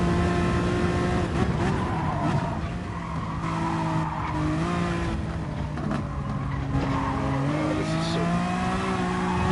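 Race car in a racing game accelerating out of a tight, angled corner, engine pitch climbing steadily over continuous tire squeal and skidding, loud and close with no talking.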